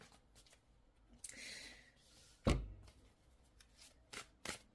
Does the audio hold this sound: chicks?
no